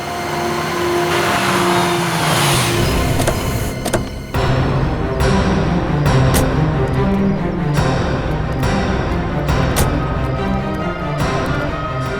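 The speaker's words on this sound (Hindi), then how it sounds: "बस आप यहीं गाड़ी रोक दीजिए।" A car engine runs and revs steadily before slowing toward a stop, loud and close throughout, with a dramatic crime-drama soundtrack layered over it.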